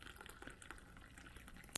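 Hot coffee pouring from the glass carafe of an OXO Brew 12 Cup coffee maker into a cup, a soft, faint, steady liquid trickle with a small clink at the end.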